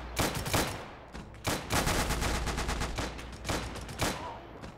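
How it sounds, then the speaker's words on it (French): British machine guns fire in the video game Call to Arms: Gates of Hell, loud repeated bursts with brief pauses between them over a low rumble. "les mitrailleuses britanniques font énormément de bruit."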